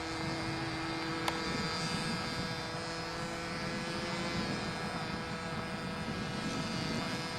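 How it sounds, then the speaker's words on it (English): A model airplane flies over the tower at a national contest, its engine a steady droning whine heard at moderate distance against constant background noise, with one brief click early on. "plane came up over the tower here"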